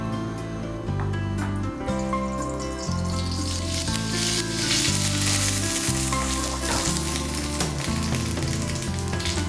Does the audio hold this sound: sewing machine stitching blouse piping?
no